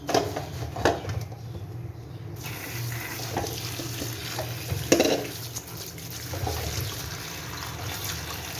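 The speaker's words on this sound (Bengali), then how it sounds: "শাকগুলোকে ভালো করে ধুয়ে নিচ্ছি" Leafy greens (sechi shak) rinsed under running water from a tap in a sink, a steady soft trickle and splash with a few louder splashes, close by and without talk.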